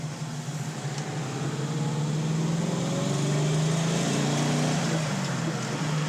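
A 1968 Dodge Charger R/T with its 426 engine shifts into second gear while driving: a steady, loud engine drone that rises slowly in pitch, continuous with no break, heard from inside the car.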